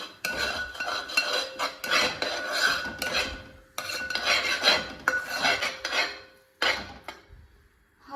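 Coriander powder and spices being stirred in a pan for chicken varattiyathu, with a spoon scraping and clinking against metal in close, busy bursts and brief pauses, no talking.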